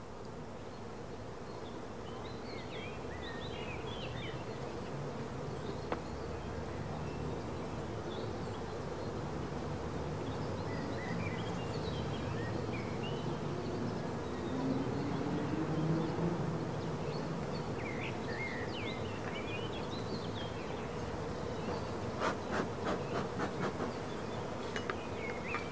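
A dense, steady buzz of many honey bees swarms around a hive during queen rearing, continuous and close throughout with no voices.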